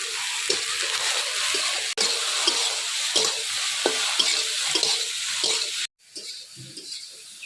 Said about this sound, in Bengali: এই দেখেন সয়াবিন কত সুন্দর করে ভাজা হয়ে